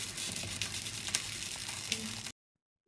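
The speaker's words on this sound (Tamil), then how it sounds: "இப்போ பாருங்கள், நல்லா மீன் கொதி வந்துட்டுருக்கு" Chettinad fish kulambu, a fish curry, bubbling in a pot: a dense, continuous close sizzling boil for about two seconds, then abrupt silence.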